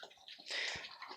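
Water splashes and pours steadily into a trough or basin so piglets can drink, a continuous bright gushing sound close by that swells in the middle and eases off.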